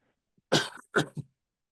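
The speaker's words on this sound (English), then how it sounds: "excuse me, I got a cough" A single short cough burst followed by a smaller second one, close and fairly clear against silence.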